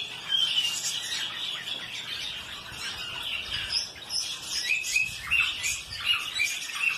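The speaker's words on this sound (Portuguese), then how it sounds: "Pássaros de todos os tipos." Exotic birds in a breeding aviary chirp, tweet and squawk in overlapping bright calls, a busy chorus heard from a short distance with no talking.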